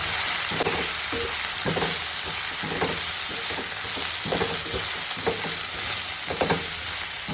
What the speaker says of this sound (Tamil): இதை ஒரு தடவை இப்படி எண்ணெயில் லைட்டாக வதக்கிடுங்க